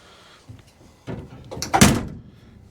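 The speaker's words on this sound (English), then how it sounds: "This door opens and closes pretty nice." A truck door being opened and closed on a pickup undergoing bed removal and frame work: a light click, then a louder swinging movement ending in a solid slam near the end.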